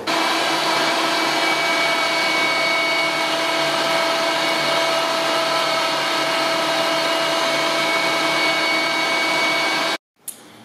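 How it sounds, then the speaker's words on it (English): A meat grinder grinds a mixture of Roosevelt elk meat and fat with a loud, steady motor whine and buzz lasting about ten seconds, then cuts off abruptly, followed by a brief clunk. "run it back through the grinder one more time"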